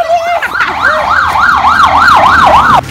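A loud police car siren wailing in rapid, repeated up-and-down sweeps close by on a street, heard as it passes, with no talk over it.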